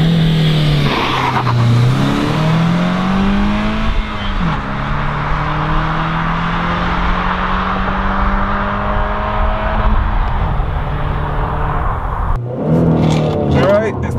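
A 2013 Honda Accord Sport with a 6-speed manual accelerates hard from 0 to 60 mph, the engine rising in pitch through the gears toward a 7,000 RPM redline, loud and steady from inside the cabin, with someone talking over it.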